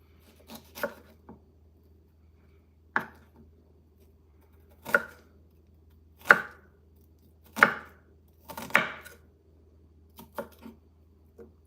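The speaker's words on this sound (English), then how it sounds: "I'm just gonna cut as much as I can of the onion until I no longer can" An onion being cut with a knife on a cutting board makes about ten separate, close, crisp chops, spaced unevenly and heard alone against a quiet background.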